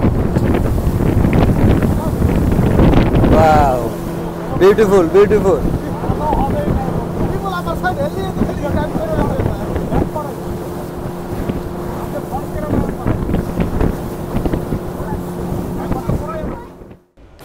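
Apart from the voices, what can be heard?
speedboat ride on park water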